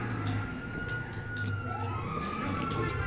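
A police car siren in GTA 5 wails in rising and falling sweeps over a steady engine drone during a city chase, moderately loud throughout.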